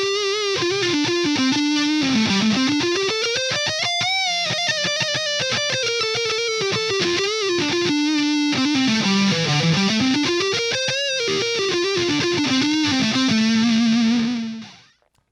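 An ESP LTD EC-1001T CTM electric guitar on its neck pickup through distortion, playing a loud sustained lead line with bends and sliding pitch sweeps over ringing chords, fading out at the end.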